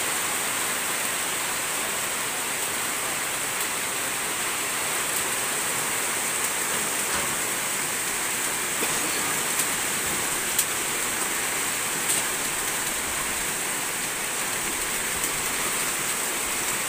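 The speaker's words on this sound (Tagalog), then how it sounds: "Umulan na po." Steady heavy rain hisses without a break, a dense, even wash of water falling on surfaces of a house under renovation with its roof removed.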